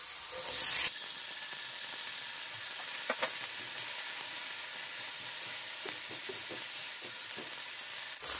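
Sliced calabacitas sizzle and fry steadily in a hot pan, with occasional light stirring clicks. The hiss is constant and close, and no one speaks.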